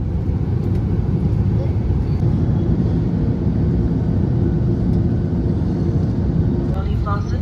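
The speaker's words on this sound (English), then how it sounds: "enjoy this landing in Singapore" Singapore Airlines A380 landing in Singapore, heard from inside the economy cabin as a steady, loud low roar of engines and airflow that holds unbroken throughout, with faint higher rattles near the end.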